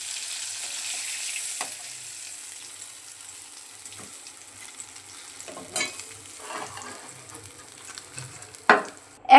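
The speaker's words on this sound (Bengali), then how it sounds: "মাছের মাথাগুলো লাল করে ভেজে নিচ্ছি।" Fish heads frying in oil for a Bengali moong dal muri ghonto give a steady soft sizzle, with scattered clinks and scrapes of stirring and a couple of louder knocks near the end, alone without talk.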